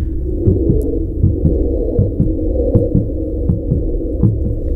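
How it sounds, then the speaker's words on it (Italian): A steady, low, muffled heartbeat thumping in a regular double-beat rhythm over a dark droning hum, continuous and fairly loud. "notate come io abbia cercato di far andare in sincrono il battito del cuore con questo momento"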